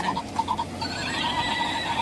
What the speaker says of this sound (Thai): ฮอส ม้า